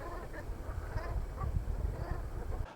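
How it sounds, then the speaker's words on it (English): Brent geese flying along a straight man-made channel linking the sea to Boston give low, throaty calls in short bursts, fairly close and steady over a few seconds under a breezy outdoor background. "the Brent geese and other things are flying up this channel"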